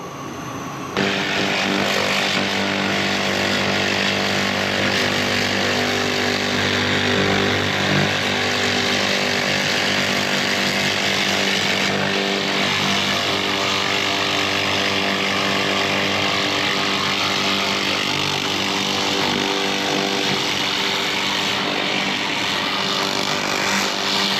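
High-power laser cleaning machine stripping rust from an old cast iron manifold in a workshop, giving a steady, loud mechanical drone and hiss that runs nonstop and close-up throughout.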